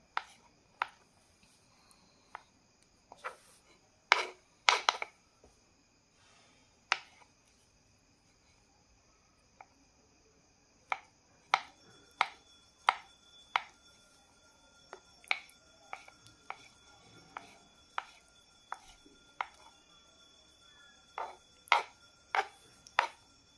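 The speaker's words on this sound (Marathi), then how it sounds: "दोन्ही पण अंडे आहेत ते बारीक कट करून घेऊयात" Sharp knife taps on a cutting board while chopping boiled eggs, in irregular bursts of quick chops with short pauses between, close and fairly quiet.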